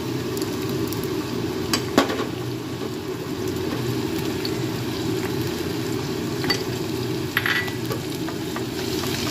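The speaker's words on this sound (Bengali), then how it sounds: "তেলটা গরম হয়ে গেছে, দেখো ফেনা একটু উঠেছে। এর মধ্যে দিয়ে দিলাম রসুন" Garlic sizzles in hot, lightly foaming oil with a steady, close crackle, broken by occasional stirring clicks and knocks against the pan.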